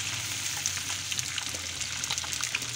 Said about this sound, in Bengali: পানি দিয়ে দিচ্ছি মশলাটা যাতে পুড়ে না যায়